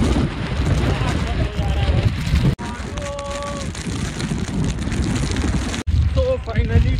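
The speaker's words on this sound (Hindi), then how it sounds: "यहाँ बहुत ही ज़्यादा हवा चल रहा है" Strong wind roars steadily across the microphone on the Brahmagiri mountain peak near Trimbakeshwar, Nashik, a loud continuous buffeting rush with brief dropouts and someone talking over it.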